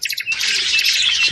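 Many birds chatter and chirp together in a dense, lively high-pitched din, starting with a few separate calls and swelling into a continuous chorus.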